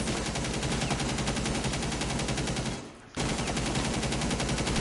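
A machine gun rattles off rapid, sustained automatic bursts in a competitive shooter match, loud and relentless, with a brief gap of under half a second before the fire resumes.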